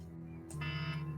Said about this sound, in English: Basically, that's my medicine alarm.